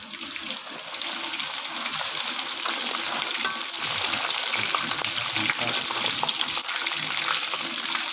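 Fish deep-frying in hot oil until golden and crisp, making a continuous, dense crackling sizzle that stays fairly even and moderately loud throughout, with no voices.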